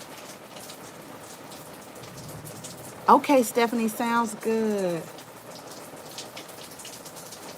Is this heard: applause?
no